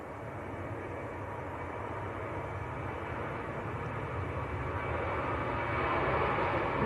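A Ryanair jet taking off for Riga gives off a broad, steady engine roar that slowly builds in loudness over several seconds, heard at some distance and alone.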